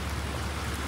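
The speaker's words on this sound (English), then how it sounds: "It's raining." Heavy rain pours steadily, a dense continuous hiss with no voices.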